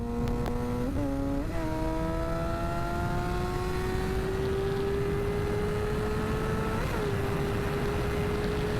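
A Suzuki GSX-R sports motorcycle engine drones steadily while riding, its pitch rising slowly through a long pull with a brief shift blip near the start and end, loud and continuous over wind noise.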